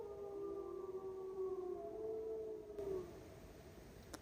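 Wolves howl at night in Alaska, long wavering tonal cries that slide and overlap at a distance, one sustained howl rising and falling before fading, with no talking.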